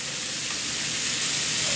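Shrimp fry in a hot pan with a small drop of olive oil, making a close, steady, even sizzle with no voices.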